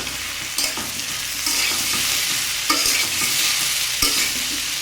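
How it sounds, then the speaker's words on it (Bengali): Fried soybean chunks and green chilies stirred into half-cooked potato and cucumber curry in a hot pan, with a steady broadband sizzle and a few sharp scraping stirs, close and loud, without speech. "এখন আমি এবার ভেজে রাখা সয়াবিন এবং কাঁচা লঙ্কা এটা এর সাথে দিয়ে আরেকটু ভাজবো।"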